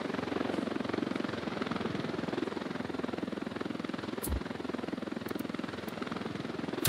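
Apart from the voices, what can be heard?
helicopter in a video game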